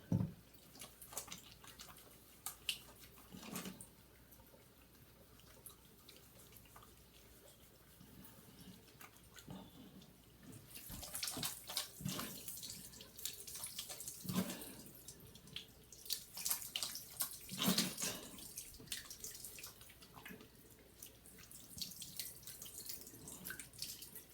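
Sink tap water running while a face is washed with soap, quiet trickling at first, then louder uneven splashes and drips as hands scoop and rub, all close by.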